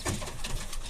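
Close and soft, a pigeon hen coos in a loft, giving a short sequence of low, throaty pulses.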